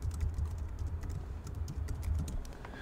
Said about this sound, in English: So I'll type in my password right now